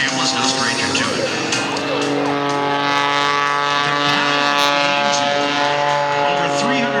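A Zivco Edge 540 aerobatic airplane with a piston engine of over 350 horsepower drones steadily at an airshow, a buzzing propeller tone that shifts in pitch as it maneuvers, under continuous commentary.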